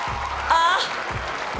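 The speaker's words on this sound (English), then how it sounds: "And can I hear a round of applause for all the poets we just saw read in this second round?" Audience applause at a youth poetry slam championship, a steady wash of many hands clapping with a brief whoop, filling the short moment evenly at moderate loudness.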